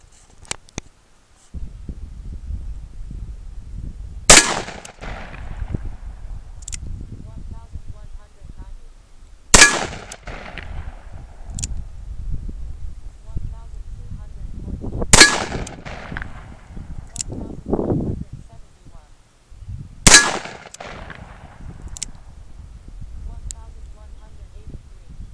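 Four sharp, loud .44 Magnum handloaded rounds fired outdoors, each a few seconds apart with a booming report and trailing echo, and low talk and background noise between the shots.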